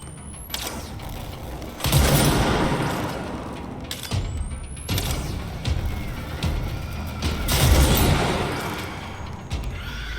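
A powerful weapon in the game Control fires in heavy, booming blasts roughly every two seconds, each blast loud and close and ringing out over a busy rumble of debris and action.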